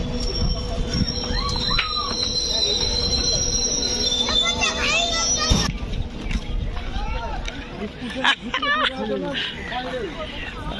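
Train wheels squeal and clank at a station, a loud steady rumble with sharp metallic screeches, over a platform crowd murmur and people talking nearby.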